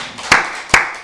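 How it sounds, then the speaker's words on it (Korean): Two loud hand claps ring out close together in a church service, sharp and bright over a wash of softer crowd clapping, in a brief burst. "우리 박수로 경드리겠습니다"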